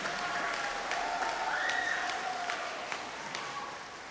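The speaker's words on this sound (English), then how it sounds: "Give them a round of applause." Audience applause at a jazz performance, a steady close patter of clapping with a few sharper individual claps and a faint whistle, gradually tapering off.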